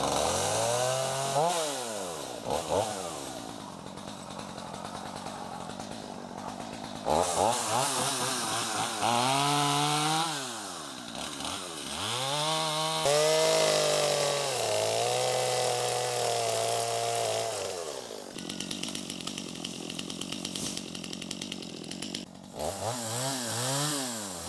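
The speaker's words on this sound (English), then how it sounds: "we're going to be loud with the chainsaw for a little bit in your yard here" A chainsaw roars close by, revving up and bogging down repeatedly as it cuts through wood, with brief idling pauses between cuts.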